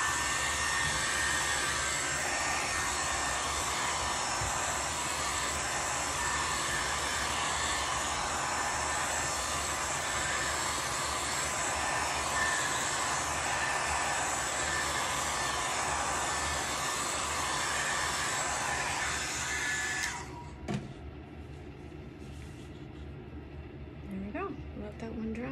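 A heat tool drying an alcohol ink background blows a loud, steady whooshing roar for about twenty seconds before switching off, leaving quiet handling sounds.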